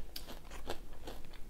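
Close, crisp crunching as someone bites and chews a crunchy hoisin-flavoured snack, a few sharp crackling bites in quick succession with no talking.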